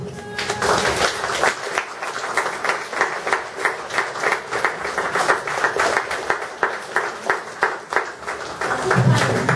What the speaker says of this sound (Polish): Ja myślę, że Zbyszkowi należą się brawa.